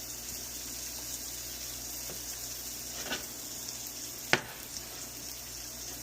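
Eggs frying in a pan for a homemade sausage egg and cheese, a steady soft sizzle with a few faint clicks and one sharp utensil tap near the end, no talking.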